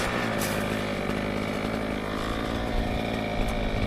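Two-stroke brushcutter engine running steadily at high revs, a loud, continuous buzzing drone close by, with no talk over it.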